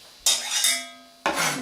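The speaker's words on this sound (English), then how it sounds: "Nice thing about a broad bladed knife like this is you can use it like a spatula, as I'm doing now." A broad-bladed pepper knife used like a spatula scrapes and stirs salsa ingredients in a pan: two loud, close metallic scraping strokes separated by a short pause, no talk.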